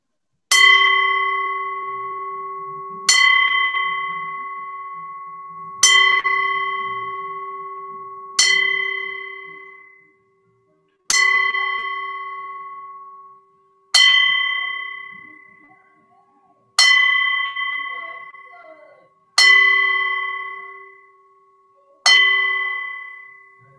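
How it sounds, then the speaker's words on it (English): A bell struck nine times at slow, even intervals in a ceremonial bell salute, each clear metallic clang ringing out and fading before the next, loud and alone with no talk. "we're going to give you a 10-bell salute"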